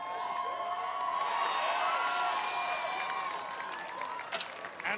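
Crowd cheering and shouting at an American Ninja Warrior event in Miami, a continuous wash of distant voices rising slightly, with a few sharp claps near the end.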